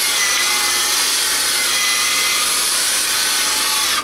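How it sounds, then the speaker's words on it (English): Wet sandpaper rubbed over the ball of a Wico arcade joystick, a continuous close, loud, hissing scrape with steady rhythmic strokes, no voices. "what's good about the wet sandpaper is it keeps it from getting hot"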